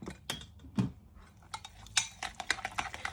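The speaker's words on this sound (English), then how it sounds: "I'm going to give that a good stir." A spoon stirs yogurt and olive oil in a bowl, giving quiet scraping and light clinks against the bowl in an irregular rhythm, close up and soft.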